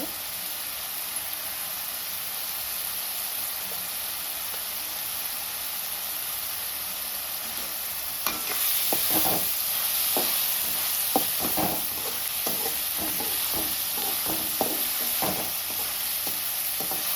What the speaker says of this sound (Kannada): ಬೇಯಬೇಕು ಚೆನ್ನಾಗಿ, ಎಣ್ಣೆಯಲ್ಲಿ ಫ್ರೈ ಆಗಬೇಕು.